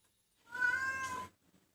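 A single drawn-out meow from a house cat, close and clear, lasting under a second and surrounded by silence.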